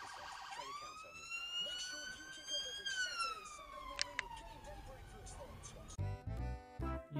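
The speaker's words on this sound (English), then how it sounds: "there's an ambulance coming" An ambulance siren on a UK road wails as it approaches, one long rising and falling tone over traffic noise, followed by a burst of rapid yelps and road rumble.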